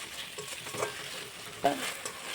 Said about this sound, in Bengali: সুন্দর করে মশলাটা কষিয়ে নেব